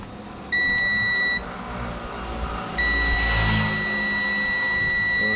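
Two sustained electronic buzzer tones from a multimeter continuity test on an LED TV circuit, a short one then a longer continuous one, shrill and close, over faint background noise with no talking.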